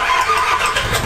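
An engine turns over and catches beside a rocky seaside shore in cold weather, giving a short, steady burst of mid-pitched mechanical noise with no voices.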